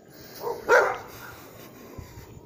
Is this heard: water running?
no